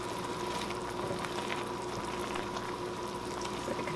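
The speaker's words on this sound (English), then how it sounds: "Just like it to cook down a little bit more, you know, thicken up just a little." Shaggy mane mushroom soup simmering in a pot, a soft continuous bubbling and gentle sizzle, close but quiet, with a faint steady hum behind it and no talking.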